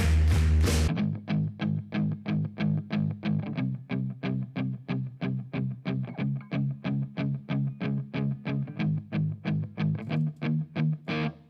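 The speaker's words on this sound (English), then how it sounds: "It's not loud or anything like that. It's palm muted," Distorted electric guitar plays chugging palm-muted chords in a steady, even rhythm after a brief opening strum, dry and close.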